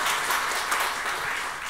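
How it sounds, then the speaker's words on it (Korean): Steady applause from a church audience after a testimony and worship performance, a dense even patter of many hands clapping throughout without a break. "큰 박수 부탁드리겠습니다"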